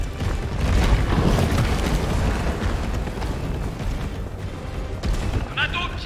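Incendiary grenade going off in Resident Evil 3 Remake: a loud, broad roaring burst that rumbles and slowly fades over several seconds, with a brief higher flicker near the end.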